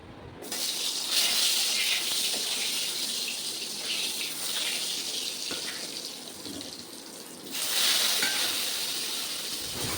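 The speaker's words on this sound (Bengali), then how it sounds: "এতক্ষণে পটলটা ভেজে নিই" Pointed gourd (potol) frying in oil in a pan gives a loud, continuous close-up sizzle that dips slightly midway and swells again toward the end, with no voices over it.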